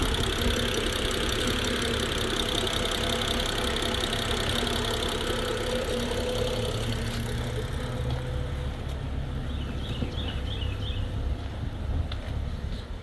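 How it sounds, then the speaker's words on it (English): BMW N55 engine idling outdoors in snowy weather, a steady close drone with a fine ticking texture, unbroken and even throughout. "Got the car outside, got it idling."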